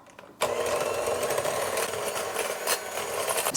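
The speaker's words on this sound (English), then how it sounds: "So I'm done beating the eggs" An electric mixer beats egg whites and yolks together for a blueberry cake batter, kicking in after a short pause into a loud, steady whirring buzz that holds close with slight wobbles and no talking.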